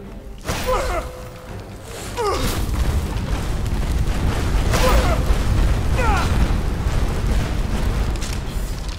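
Explosive bombardment spells cast in Skyrim inside a labyrinth. Several heavy booms and whooshing blasts follow one another and leave a loud, rumbling roar.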